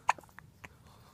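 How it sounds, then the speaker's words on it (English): A baby gives a small, sharp hiccup close by, with a few softer vocal sounds after it in a quiet room. "Now we have hiccups."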